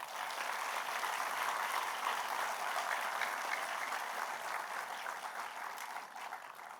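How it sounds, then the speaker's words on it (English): A graduation crowd applauds teachers and parents at a school ceremony, steady sustained clapping from many hands that fills the room and fades slightly toward the end. "Let's give them a round of applause."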